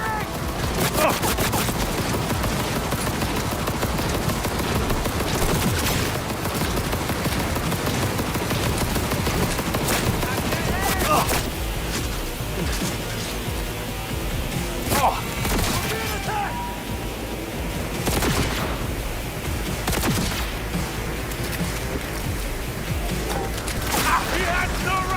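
Gunfire in Cyberpunk 2077 crackles in dense, sustained bursts, with sharp louder shots standing out near the middle and end, while voices shout over the continuous combat din.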